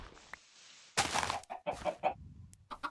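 Chickens in the game Minecraft cluck in short, loud bursts, with a few separate calls close together, some sharp and some fuller, after a brief stretch of quieter ambience.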